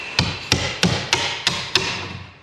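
Six sharp, evenly spaced hammer strikes on an old chisel used to pry open a wooden crate, each a loud metallic knock with a brief ring, close and alone.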